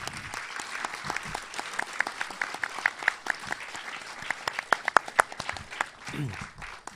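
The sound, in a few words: audience applause for the guests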